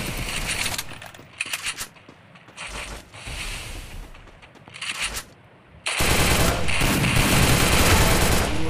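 Bursts of rapid automatic gunfire from the mobile battle game Free Fire crackle in short volleys, then give way to a loud, sustained stream of shots at the end.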